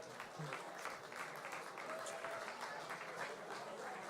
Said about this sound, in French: Applaudissez Clément,